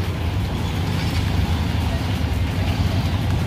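Several motorized tricycles pull away along Maunlad Street, a steady low engine rumble and traffic noise filling the whole stretch at moderate distance, continuous with no clear breaks.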